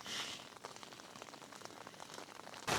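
Rain patters steadily on a tent during wild camping in the Peak District at Burbage Quarry, a dense, close hiss of drops tapping the fabric with a brief louder rustle at the end.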